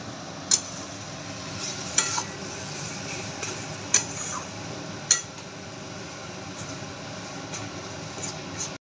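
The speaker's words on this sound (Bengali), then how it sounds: "এটাকে এবারে ভালো করে নাড়িয়ে নিতে হবে।" A spoon working a mashed bharta mixture around a pan, with soft continuous scraping and a faint sizzle, punctuated by a few sharp metallic clinks against the pan's edge.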